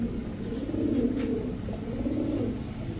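A female Giribaz high-flyer pigeon coos in a low, steady, throaty murmur that continues for a few seconds, fairly close, with no talking.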